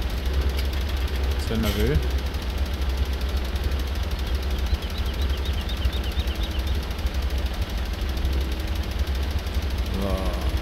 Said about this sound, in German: Also das blubbernde Geräusch von dem Motor, echt genial, wenn er so ein bisschen mal wieder Gas gibt.